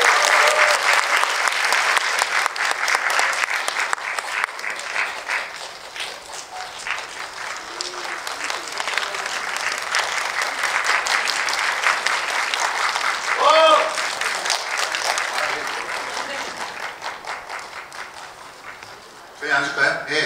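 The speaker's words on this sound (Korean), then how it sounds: "힘찬 박수로 모시겠습니다." Applause from a cinema audience welcoming the director and cast of the film White Car Woman, sustained clapping lasting most of the clip, with voices talking over it near the end.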